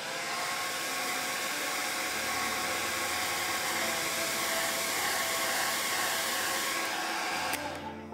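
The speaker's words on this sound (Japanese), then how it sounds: "筆はきれいにしてドライヤーで乾かします。" A hair dryer blows continuously at close range over a watercolor pencil painting, a loud, steady whooshing roar that runs for several seconds before switching off near the end.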